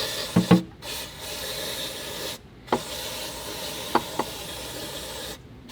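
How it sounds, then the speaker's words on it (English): Electrical parts cleaner sprayed from an aerosol can over a burnt Porsche 918 Spyder part, three bursts of loud steady hiss separated by short pauses, with a few sharp knocks and taps. "I am going to just have some electrical parts cleaner and douse the entire thing in cleaner."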